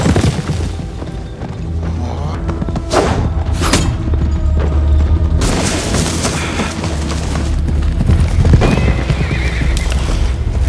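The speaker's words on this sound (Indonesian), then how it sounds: "Tiba-tiba dari pintu belakang tampak Arminius melarikan diri menggunakan kuda sambil membawa tongkat" Horse gallops with rapid clip-clop hoofbeats and loud neighs over a dense, booming battle soundtrack with thuds and crashes, as a rider flees on horseback from a barbarian-versus-army fight.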